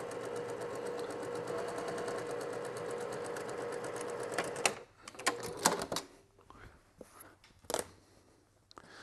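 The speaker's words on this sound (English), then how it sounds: "I'm going to go to the machine, and I'm going to sew this on real quick." A sewing machine stitches fabric strips for a quilt border, running steadily at a fast, even rhythm for several seconds, then stopping and giving way to scattered handling clicks and rustles.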